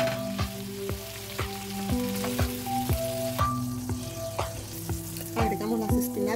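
Shrimp sizzle and fry hard in a hot pan for pasta with spinach, a dense, continuous crackle with rhythmic scraping taps of a utensil turning them, close and steady.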